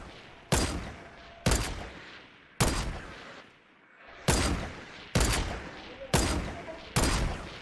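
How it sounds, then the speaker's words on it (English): Video game gunfire, a series of seven sharp, loud shots spaced roughly a second apart, each with a decaying tail and one longer pause midway. "They're shooting each other"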